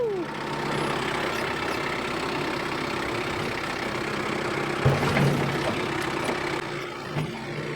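A Kioti CS2520S compact tractor with a backhoe idles as a steady low diesel rumble, with a few small knocks and thumps partway through.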